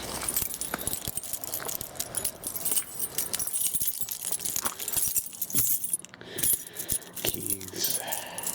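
Keys jangle and clink near a VW camper during a TDI engine swap, a run of light metallic rattles over quiet background noise, no talking.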